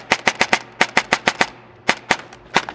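An upgraded H&K MP5K fires in quick, close, loud bursts of sharp shots: a run of four, then five, then three and two more, with brief pauses between groups.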